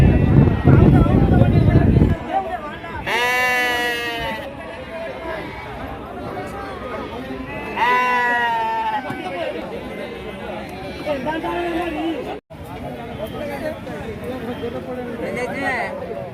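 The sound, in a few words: goats and sheep bleating at a village market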